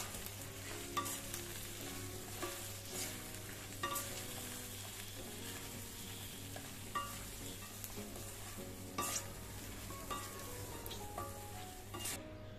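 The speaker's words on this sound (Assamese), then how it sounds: "দি মই গোটেইখিনি ভালদৰে লৰাই দিছোঁ" A spoon scrapes and stirs salt, turmeric and spices in a pan while oil sizzles faintly underneath, with irregular clinks and scrapes spread across the stretch, and no one talking.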